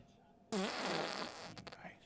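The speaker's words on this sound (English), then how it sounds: "So you were literally done with the fart mic for 0 days." Fart sound effect from a fart mic on a morning radio show, a sudden loud buzzy blast that sputters and trails off over about a second and a half, close and dry.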